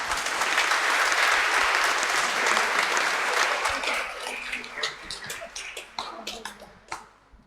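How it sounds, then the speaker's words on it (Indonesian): A church congregation at a Christmas Eve evening Mass applauds, a loud dense roar of many hands that gradually thins into scattered separate claps before fading out. "kita beri aplaus untuk pelayanan mereka"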